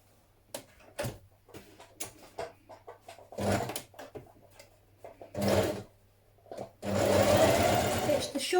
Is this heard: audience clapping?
no